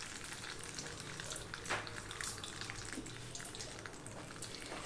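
Washed, drained slices of pointed gourd (potol) sizzling in hot oil with salt and turmeric, a steady crackling fry with a brief louder splatter as the pieces settle and are stirred.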